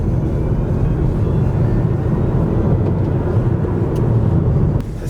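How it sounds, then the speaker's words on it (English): A 2020 Kia e-Niro electric car with a 68 kW motor accelerates hard on the road, giving a steady, loud rush of road and wind noise with a low rumble. The sound holds constant throughout and eases slightly at the very end. "Instant acceleration, 68 kilowatt motor."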